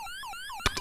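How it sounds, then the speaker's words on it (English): Siren sound effect from the Silver Surfer NES video game, a short electronic wailing tone sweeping up and down repeatedly, loud and alone, with a couple of percussive game hits near the end. "Return of the siren noise."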